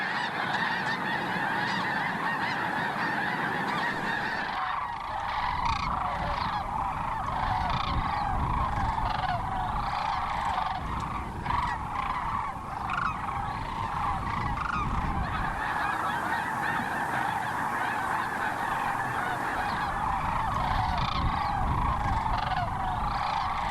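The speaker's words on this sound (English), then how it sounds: "the sights and sounds of the great spring migration of sandhill cranes in Grand Island" Sandhill cranes during spring migration near Grand Island, Nebraska, a dense chorus of many birds calling at once, rattling honk-like cries layered continuously at moderate distance with no voices.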